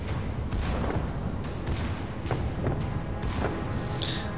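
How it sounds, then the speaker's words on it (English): Ship secondary guns in World of Warships fire a steady run of dull thuds and booms, repeated every half second or so under a constant low rumble of engine and sea. "Secondaries are firing on them."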